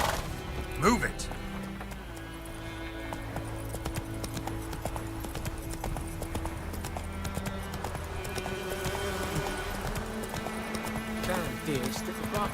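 Horse hooves clip-clop steadily in The Witcher 3, mixed with game music and ambient sound, with an occasional whinny-like note near the start.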